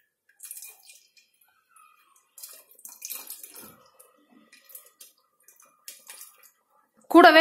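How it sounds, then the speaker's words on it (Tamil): Tamarind water is poured into a pot of Sankara fish curry, giving scattered soft splashes and drips in short bursts with quiet gaps, close by, before a louder sound at the very end. "நம்ம கரைச்சி வச்சிருக்க புளிய ஊத்திடலாம்."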